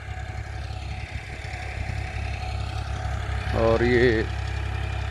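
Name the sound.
Farmtrac 30 tractor engine running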